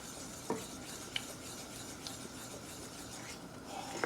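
Caramel sauce is stirred over Honey Bunches of Oats cereal in a pan: a soft continuous scraping rub with a few light clinks of the utensil against the pan, quiet and close.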